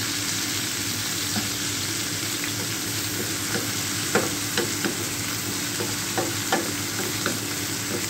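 Tomatoes frying in a pan with steady sizzling throughout, joined by scattered clinks and scrapes of a utensil stirring. No one speaks.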